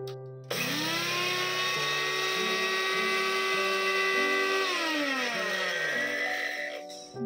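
A smoothie maker grinding sugar into powder, a loud high motor whine running continuously for several seconds, its pitch stepping up and down as the load shifts, then cutting off near the end.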